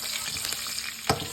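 Cumin, carom seeds, chillies, curry leaves and asafoetida tempering in hot oil in a kadhai: a steady, close hiss and crackle of sizzling with a sharp spatter near the end, no voices.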